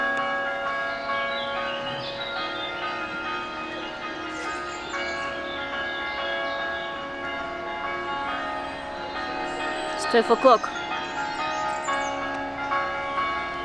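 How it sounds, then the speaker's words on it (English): A deep church bell rings at noon in São Miguel, Azores, tolling steadily with long, overlapping resonant strikes that hang in the air, sustained throughout, with a brief burst of brighter chimes partway through. "Have you heard a church bell like this before?"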